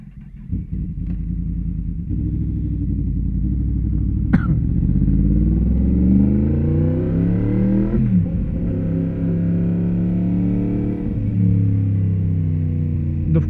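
A car driving on a new set of tyres, engine note rising and falling through gear changes as it pulls along a road, steady and close throughout.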